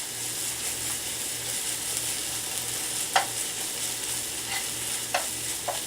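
Pieces of beef sizzle and fry steadily in a pan for a tomato beef dish, with a few sharp clicks of a utensil scraping and stirring against the metal over the constant hiss.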